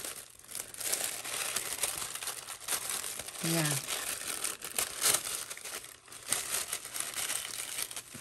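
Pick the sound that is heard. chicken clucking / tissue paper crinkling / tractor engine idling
tissue paper crinkling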